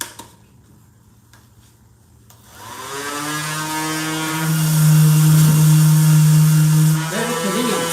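A cordless sander fitted with sandpaper starts after a quiet moment, spinning up into a loud, steady whine with a strong low hum and shifting pitch as it works.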